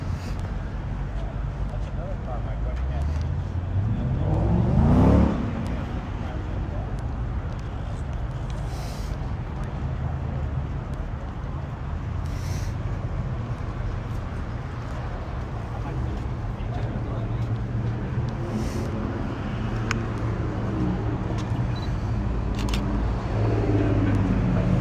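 Classic cars, including a '57, roll in at an outdoor car show, engines rumbling steadily with a louder pass around midway, while someone talks over the background motor noise.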